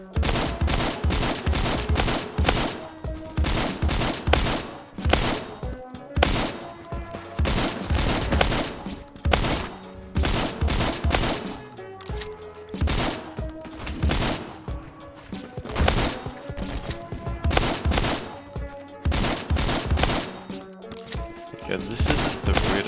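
Repeated shotgun blasts from Phantom Forces gameplay, rapid booming shots fired in quick bursts with short gaps, loud and dense throughout.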